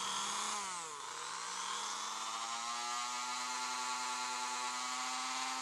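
Dremel rotary tool with a soft cloth-like polishing attachment on a scratched 360 camera lens, a high whining motor hum that dips briefly under load and then climbs steadily in pitch, heard alone.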